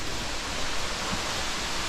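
Steady broadband rush of a waterfall on a Table Mountain hike, constant and fairly close, with no voices over the continuous roar.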